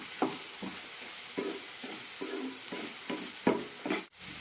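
Bottle gourd chutney stirred in a pan, a spoon scraping in several distinct strokes over a steady close sizzle of frying.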